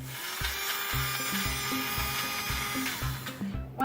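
An upgraded Thomas and Friends toy engine, Diesel, runs its small motor with a buzzing whir and a steady repeating clack, roughly twice a second, close up and without talk.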